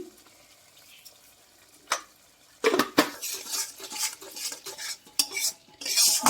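A spatula scrapes and clatters in a pan as masala with a pinch of sugar is stir-fried on a medium flame for paneer pasanda, quiet at first, then a run of busy, close metallic stirring over a soft sizzle.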